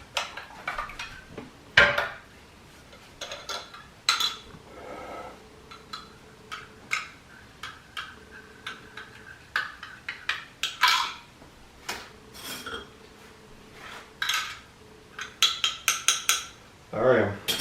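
Wet ingredients for gözleme dough get stirred in a bowl: irregular clinks and taps of a utensil against the bowl come in quick bursts, close and fairly quiet, with louder clatters scattered throughout.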